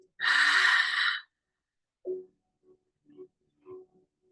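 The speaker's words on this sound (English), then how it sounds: "exhale through the mouth" A deep, breathy exhale through the mouth during a guided breathwork session, one long loud rush of air lasting about a second, followed by a few soft, faint breath sounds alone in a quiet room.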